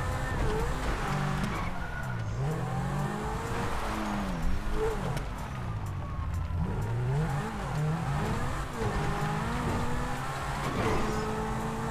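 A car in the video game GTA 5 revs hard and accelerates, its engine pitch swooping up and down again and again with tire squeals, loud and continuous, with no talking over it.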